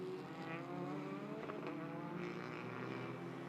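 TCR touring race cars, including Hyundai N entries, roll off the El Pinar track into pit lane during qualifying, with a steady mid-distance engine drone and shifting tones as they pass.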